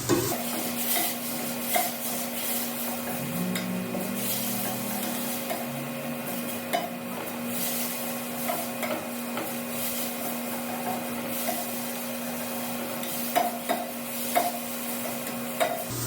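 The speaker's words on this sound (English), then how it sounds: "you're going to add your minced garlic, like I said, 4 cloves. And you're going to want to cook that for about a minute." Four cloves of minced garlic sautéing in a pot for chicken tortilla soup, a steady low sizzle with faint occasional stirring clicks, no talking.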